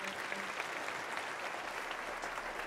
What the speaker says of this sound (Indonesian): Tepuk tangan dulu dong Bapak Ibu teman-teman semuanya.